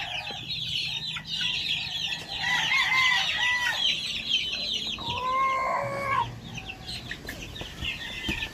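Game fowl roosters at a gamefarm on a rainy day, several crowing in overlapping calls with steady clucking, close and fairly loud over a continuous rain-like background hiss.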